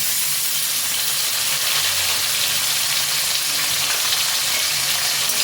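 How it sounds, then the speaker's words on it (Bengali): Chopped tomato pieces fry in oil with a continuous bright sizzle and hiss, steady and close, occasionally stirred, with no talking. "টমেটো কুচিগুলোকেও খানিকক্ষণ তেলের মধ্যে নাড়াচাড়া করে নেব"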